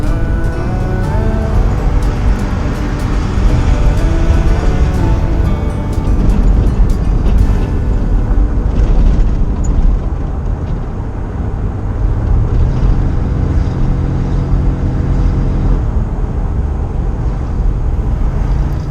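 Car driving down a tarmac road on southern Vancouver Island, a loud steady engine and road drone heard from inside, with gear-like shifts in pitch and no talk.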